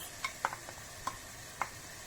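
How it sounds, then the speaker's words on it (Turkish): Dry onions tipped onto minced meat frying in a pan for lasagna, with a soft steady sizzle under a few sharp clinks and scrapes of stirring, close and fairly quiet, no talking. "Şimdi üzerine kuru soğanımızı ekliyoruz."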